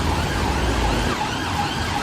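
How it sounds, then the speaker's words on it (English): A loud emergency siren from an approaching ambulance wails steadily amid dense UK traffic noise, filling the whole moment with no voices. "Here's some sirens coming."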